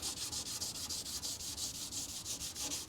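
Fast, even back-and-forth scrubbing strokes against the door of a 1968 Dodge L1000 truck, removing paint, a rhythmic rasp repeating several times a second, close and steady.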